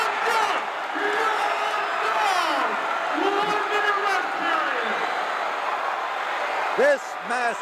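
A massive capacity crowd at a wrestling match in the Sam Houston Coliseum roars and cheers steadily throughout, with shouted whoops rising over the din and a loud voice cutting through near the end.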